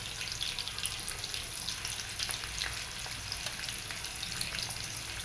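Mustard seeds sizzle and crackle in hot oil for a Gobi Aaloo fry, a steady soft frying hiss with scattered small pops, close and fairly quiet with no voices.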